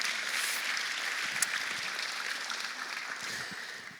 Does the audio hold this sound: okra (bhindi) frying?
no